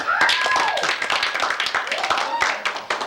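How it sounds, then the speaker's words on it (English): A comedy show crowd claps and applauds steadily, a dense patter of many hands with a few whoops or voices mixed in. "I will accept some more applause"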